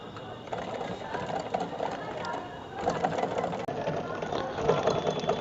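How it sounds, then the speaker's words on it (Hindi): Sewing machine running with a faulty bobbin case that leaves grainy, uneven upper stitches; a steady close mechanical whir and rattle runs throughout, growing slightly louder toward the end. "कुछ इस तरीके से सिलाई मशीन चलती है"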